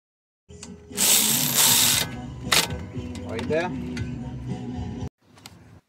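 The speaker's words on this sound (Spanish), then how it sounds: "ahora la tuerca de 10 milímetros para sujetar la línea de freno otra vez" A ratchet wrench turns a 10 mm brake line nut on the caliper of a 2008–2012 Chevy Malibu 2.4: loud metallic clicking and grinding bursts up close, then a short quieter pass after a brief pause.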